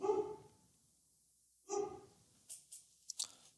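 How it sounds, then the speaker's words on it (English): A pet dog named Pancake gives two short, loud barks about two seconds apart, followed by a few faint scattered clicks and knocks in a quiet room. "That's my good dog Pancake letting us know."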